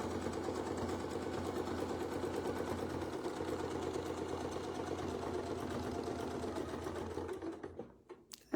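A sewing machine stitches a quilt block, a steady, fast mechanical whirring hum with rhythmic needle ticks, close and continuous before stopping near the end.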